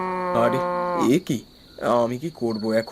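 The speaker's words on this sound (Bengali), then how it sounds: "হঠাৎ গরু ডাকে আমার ঘুম ভেঙে যায়।" A cartoon cow lows in a pasture at dusk with a long drawn-out moo, followed by a second, shorter call, while a voice speaks in between.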